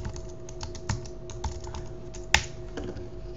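Keystrokes on a Mac computer keyboard, a short run of light, irregular taps with one sharper, louder clack near the end, close and quiet over a low steady hum.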